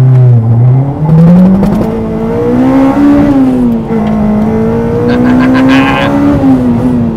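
A Honda Civic Type R EP3 with a remapped engine holds at high revs on launch control with a steady rising drone, then climbs and wavers, loud and close with no talking.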